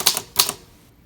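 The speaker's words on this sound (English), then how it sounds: "And that's how the typing sounds, really." Two quick mechanical key strikes on a vintage Olympia typewriter, each a sharp clack with a brief rattle, close and loud, then quiet.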